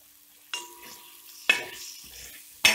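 Spice masala with tomato and black pepper powder stirred in a pan for Kerala beef roast, three distinct scraping strokes against the pan over a low sizzle, close and clear with no talking.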